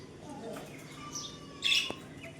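Caged budgerigars kept indoors give scattered short chirps and one brighter burst of twittering over quiet room noise.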